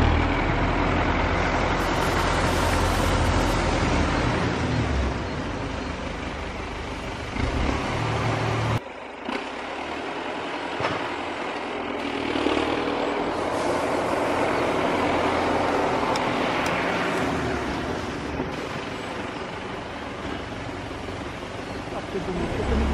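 A tractor engine runs nearby with a continuous rumbling drone that stays loud for over twenty seconds, briefly dipping around the middle before settling back to a steady churn.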